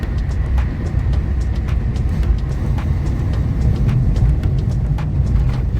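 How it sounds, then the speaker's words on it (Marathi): Cars and heavy trucks rumble through the Kashedi road tunnel, a dense, steady low roar with echoing drone and faint intermittent clicks, no talking over it. "पहिल्या बोगद्यात ना मोठ्या गाड्या छोट्या गाड्या दोन्ही जात आहेत"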